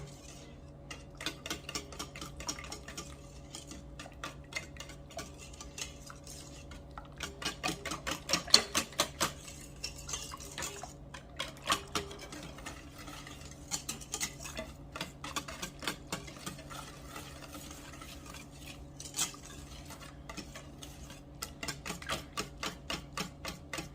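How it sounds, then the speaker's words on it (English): Cinnamon being whisked into a Southern-style bread pudding mixture, a steady run of quick, light ticking strokes against the bowl that keeps going for the whole stretch at moderate loudness, with no talking. "I'm whipping in my cinnamon"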